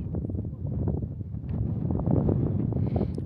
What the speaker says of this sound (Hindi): देखो हवा चल रही है काफी खतरनाक वाली